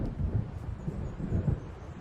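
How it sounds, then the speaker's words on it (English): Low rolling thunder rumbles through a storm over dark waters in the video game Alan Wake, a couple of deep swells rising and fading under faint rain, with no voices. "It seems there's a storm coming."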